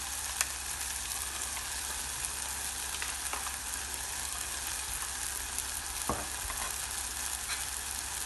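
Ground pepper, cumin and roasted garlic fry in oil for garlic rasam, giving a soft, steady hiss and crackle, close and quiet. Only an occasional faint tap breaks the even sound, and no one speaks.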